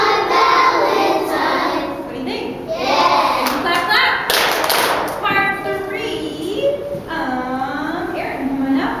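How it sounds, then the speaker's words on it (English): Children clap their hands along to a Valentine's song in a small room, with a few crisp claps and thumps between sung and spoken children's voices. "Clap, clap."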